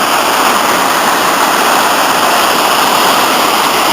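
River rapids rush through Aberglaslyn gorge in a loud, steady, broadband roar of churning whitewater that holds constant and close throughout, with no voices.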